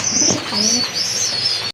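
Fancy pigeons at a market sale, including solid white birds with upright crests, give soft cooing calls alongside chirpy bird sounds in a short, steady stretch of noisy background.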